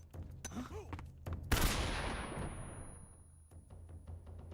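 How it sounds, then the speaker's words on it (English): Stun grenade tossed through a window in the Metal Gear Solid video game: a sharp burst at about a second and a half, then a long, hissing, ringing decay over steady game background, with a few quieter clicks and thumps afterward. "we throw a stun grenade through that window"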